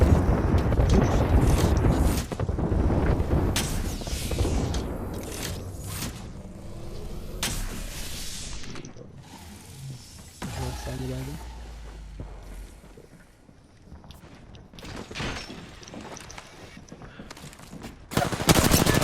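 Artillery firing for effect in a video game: a run of loud, sharp bursts and booms packed into the first half, then sparser blasts. Game sounds and voices run underneath, and a heavy burst closes the clip.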